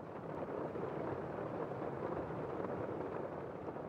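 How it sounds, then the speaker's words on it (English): Gentle rain falls in a steady, even wash of soft noise with a low rumbling undertone, unbroken and fairly quiet throughout, with no voices. "The gentle sound of the rain only adds to your comfort."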